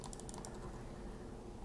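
Code is typed on a computer keyboard in a quick burst of close key clicks that stops after about half a second, leaving a quiet low hum.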